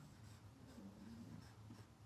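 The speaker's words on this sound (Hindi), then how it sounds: "तो यहां पे लिखेंगे" Pen writing on paper while solving a math problem: faint, soft scratching strokes close by in a quiet room, a few short bursts over two seconds.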